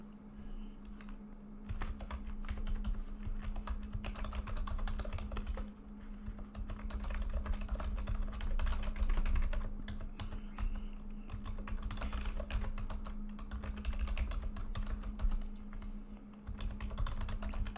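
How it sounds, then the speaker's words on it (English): Steady stream of computer keyboard typing, close and continuous with irregular clattering keystrokes and brief pauses, heard alone with no talk over it. "Let me type that out."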